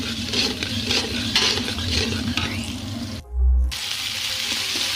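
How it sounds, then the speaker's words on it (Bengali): Onions slowly browning on medium heat in a pan for chickpea biryani: a steady, fairly loud fry with stirring scrapes, broken briefly by a deep low thump and a short drop in sizzle. "এখন আমরা পেঁয়াজগুলো মিডিয়াম হিটে ব্রাউন কালার করে নিব আস্তে আস্তে।"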